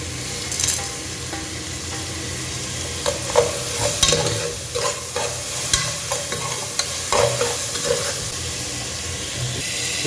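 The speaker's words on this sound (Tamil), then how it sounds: "இதோட பட்டை, கிராம்பு, ஏலக்காய் எல்லாம் போட்டுக்காங்க." Whole cinnamon, cloves and cardamom frying and sizzling in hot oil in a pan for a Tamil mutton curry, with a steady loud hiss broken by scraping stirs.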